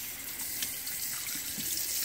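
Water runs steadily over pearls being washed with soap in a sink fitted with a drain, giving a continuous splashing hiss with small irregular spatters and no talk.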